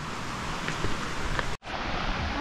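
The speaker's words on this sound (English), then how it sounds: "You can hear the rushing water down there. It sounds amazing." Rushing water of a mountain waterfall in Capiz, Philippines, a steady broadband roar heard from a distance, continuous apart from a brief cut near the middle.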